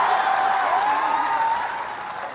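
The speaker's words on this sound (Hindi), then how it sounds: "बजाइए ताली जरा।" Audience applause at a youth club meeting in the Bapu auditorium: sustained clapping from a crowd, steady and fairly loud for the whole stretch, tapering slightly toward the end.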